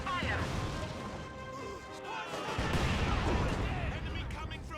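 Sandbags being blown apart in the Company of Heroes 2 strategy game: dense, loud battle noise of crashing impacts and gunfire-like blasts runs continuously, swelling after a brief dip midway, with a voice talking faintly underneath.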